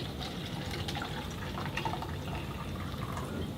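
Steady, continuous splashing of high alkaline ionized water being poured into oil, fairly loud and close, with no talking over it.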